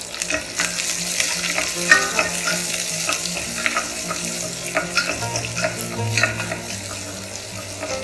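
Chopped shallots frying in hot oil for a Kerala egg and potato curry, with a loud, continuous close sizzle and steady scraping and stirring throughout.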